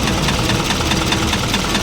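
A steady, rough Isuzu 4HL1 diesel engine idling up close, with a continuous rattling knock running through the noise.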